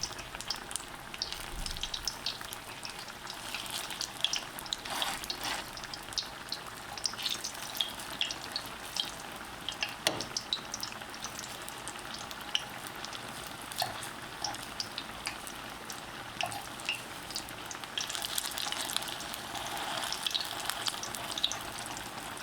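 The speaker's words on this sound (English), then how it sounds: "Allow the fritters to fry 2 between 3 minutes before flipping it." Banana fritters frying in a pan on a stove at medium-low heat, a steady dense sizzle and crackle running throughout at moderate loudness, with a few brief clinks and occasional soft water-like bursts.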